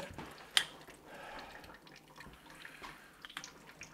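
Water streams and drips down the outside of a window at a house with leaking tiled showers, faint trickling and small splashes with one sharper drip, no talk.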